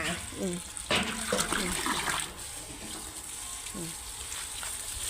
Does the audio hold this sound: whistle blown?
no